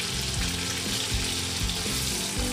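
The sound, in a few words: sliced onion frying in a pot for beef kaldereta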